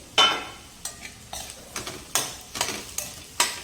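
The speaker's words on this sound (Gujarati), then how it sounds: "અને આ રીતે પહેલાં રોટલા સાથે સરસ મિક્સ કરી લઈશું" Broken millet rotla pieces are stirred into onions frying in oil, producing a series of close, sharp scrapes and clinks against the pan over a soft, steady sizzle, with no talking.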